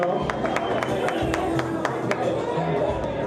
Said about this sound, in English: Come on, clap your hands for her.